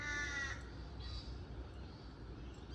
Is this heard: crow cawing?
yes